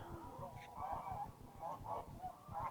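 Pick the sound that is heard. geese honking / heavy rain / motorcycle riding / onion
geese honking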